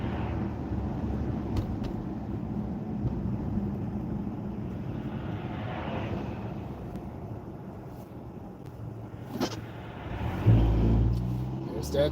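A car pulls away hard with instant torque, producing a low, steady road and motor hum heard from inside the cabin, which swells louder near the end.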